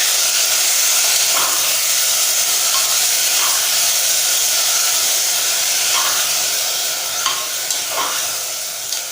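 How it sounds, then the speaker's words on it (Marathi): Sprouted red cowpeas sautéed with softened onion in a pan give a steady, loud sizzle and hiss throughout, with occasional stirring scrapes and no voices. "त्यामध्ये आपण मोड आलेली लाल चवळी टाकून घेऊया।"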